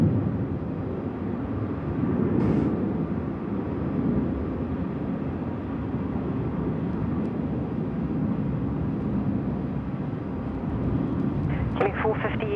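A jet airliner departs Sydney Airport at night bound for Denpasar, its broad engine roar sustained and fairly loud throughout, with a few brief clicks and bumps near the end.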